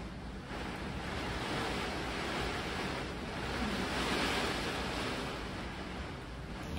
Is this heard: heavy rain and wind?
yes